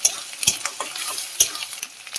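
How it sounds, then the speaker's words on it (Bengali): Tomatoes frying in a pan with onion paste for an egg curry, a close sizzle broken by several sharp spatula scrapes and stirring knocks at an uneven rhythm. "টমেটোগুলো দিয়ে এখন ভেজে নেব"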